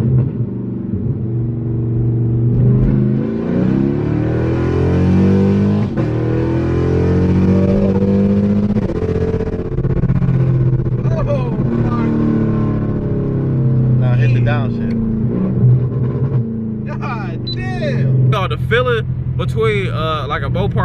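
A Mopar car accelerates in sport mode with a steady, loud engine rumble that rises and falls as it revs, while people talk inside the cabin over it.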